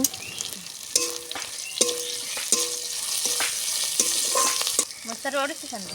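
Chicken momo filling of chopped green chillies and ground spices fries in a pan and is stirred, giving a steady sizzle broken by repeated ringing clinks of a utensil against the pan.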